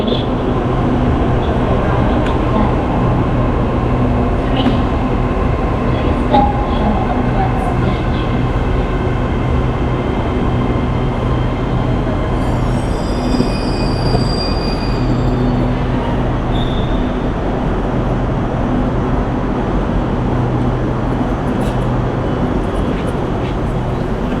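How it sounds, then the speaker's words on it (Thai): An electric train on the SRT Red Line rolls into a platform in Bangkok with a steady loud rumble and hum, brief metallic squeals rising partway through, and faint voices in the background. "ตอนนี้รถไฟมาแล้วครับ"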